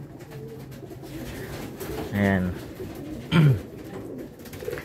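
Two short, soft coos from racing pigeons, one in the middle and one a moment later, heard close by over low background noise.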